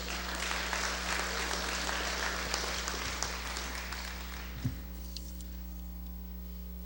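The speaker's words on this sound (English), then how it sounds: "Let's give her again a warm round of applause." A warm round of applause from an evening audience at an organizing event, steady dense clapping filling the room over a constant low electrical hum, easing slightly toward the end with a brief bump.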